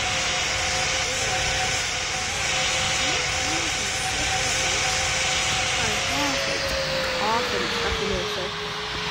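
Boeing 777 jet engines in a flight simulator game make a loud, steady roar with broadband hiss and a droning tonal whine that lasts throughout, with no pause.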